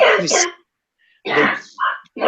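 A person sneezes loudly and close at the start, followed by a quiet pause and then further vocal sounds and talk.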